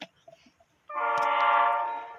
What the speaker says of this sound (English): That train's getting closer.